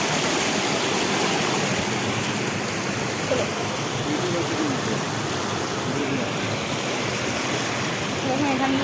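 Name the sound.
water flowing past the Panchalingeswar temple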